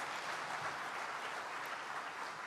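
Dense, even clapping from a large forum audience at an annual meetings session, heard fairly distant and low in level, continuous for the whole stretch with no voices over it.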